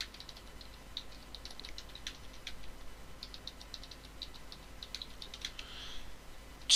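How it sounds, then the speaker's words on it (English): Computer keyboard typing during a spreadsheet session, a light irregular run of soft key clicks in bursts over a quiet background hum. "sorry, typing them"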